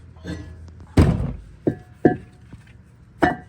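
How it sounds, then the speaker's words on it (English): A loose brake rotor is worked off the front hub of a Lexus GX 460, giving several dull metallic thunks and knocks at irregular intervals, close and fairly loud, with quieter scraping between them. "Our rotor was loose, so we're just going to pull it off."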